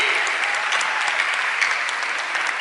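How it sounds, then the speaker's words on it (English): Steady, dense audience applause for a stunt supercar driver at a live motor stunt show, a full crowd clapping at an even level throughout with no speech over it. "How about a big round of applause for our amazing supercar driver, Mr. Jimmy Grigsby?"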